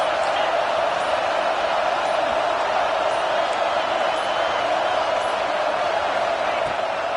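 Stadium crowd in the NCAA 26 college football video game roaring on a big third down, a dense constant wash of cheering that stays loud and steady with no clear peaks.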